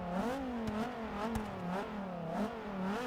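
Dodge Viper SRT engine in Forza 6 revving steadily with a rising and falling growl, loud and close, pitch wavering through several swells with no voices.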